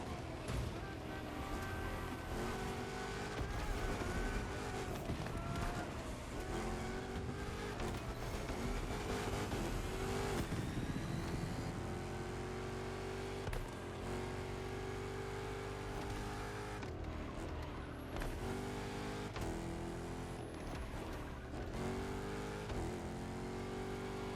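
A supercharged 1187 hp Dodge Challenger Hellcat in an iRacing-style racing game, its engine droning and revving up and down through gear shifts for the whole stretch, with a voice talking over it in places.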